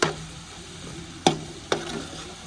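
A spoon stirs masala frying in a pan, with three sharp clinks of metal against the pan over a low, steady sizzle, close up and without any talking.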